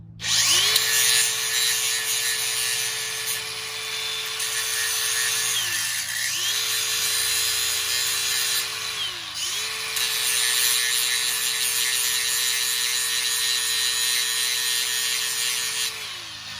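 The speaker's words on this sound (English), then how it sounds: "I'm just simply going to grind the top of the pin off." A power grinder works steadily on a chain, grinding the top off a chain pin, with a loud, continuous high whine and a strong tone that dips briefly twice and then resumes, with no voices.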